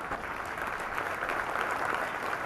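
Applause from an audience at a Jain saint's religious discourse: steady, uniform clapping from many people, moderately loud and sustained throughout, with no voices over it.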